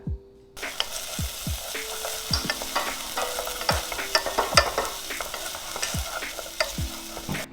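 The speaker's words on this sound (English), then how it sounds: "gonna go ahead and saute this shallot in a little bit of neutral oil" A shallot sautés in avocado oil in a small pot, with a steady close sizzle and repeated scraping stirs and taps of a utensil against the pot, and no talking.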